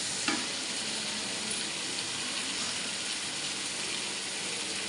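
Water is poured into a pan of sautéed chicken for biryani, a brief splash at the start giving way to a steady loud sizzle and bubbling that fills the whole stretch without talk.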